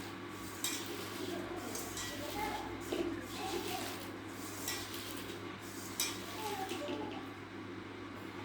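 Chopped water lily stems being hand-mixed with turmeric and salt in a bowl give a soft, steady shuffling and squelching, with light clinks of a pot or utensil and a faint voice murmuring in the background.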